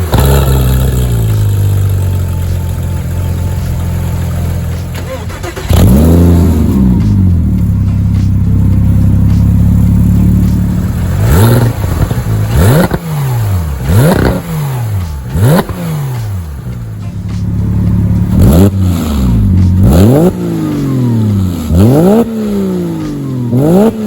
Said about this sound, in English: let's get to startups and some revs.